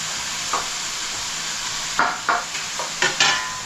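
Methi greens with coconut and tomato sizzle steadily in a pan, broken by several sharp scraping bursts of stirring, close and clear with no talking.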